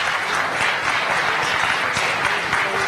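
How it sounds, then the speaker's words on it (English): Audience at a Uganda–Europe business forum breaking into steady applause, dense clapping throughout with no speech over it. "A round of applause, please."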